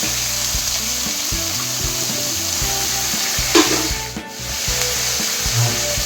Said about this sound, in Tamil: இப்போ நம்ம வெங்காயம் சேர்த்துக்கலாம். மல்லி கருவேப்பிலை சேர்த்துக்கலாங்க.